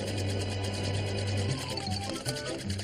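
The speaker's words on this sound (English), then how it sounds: "The wind turns the blade of the windmill. That turns a drum. Which moves the conveyor belt." A cartoon machine with a windmill turning a drum to drive a rock-carrying conveyor belt runs with a steady, rapid mechanical whirring and rattling, close and continuous throughout.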